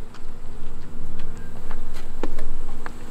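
Honey bees buzz steadily around a hive, a dense droning hum with individual insects passing close now and then.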